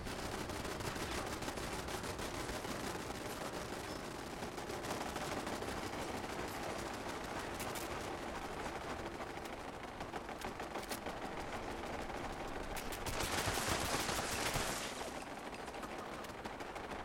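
Automated turrets in Fallout 76 firing steadily in dense, continuous bursts over constant game noise, with a louder stretch near the end.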